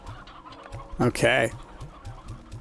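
Hens cluck in a steady, regular series in the Slime Rancher 2 video game, with one louder, drawn-out fowl call in the middle and a brief spoken word over the sounds.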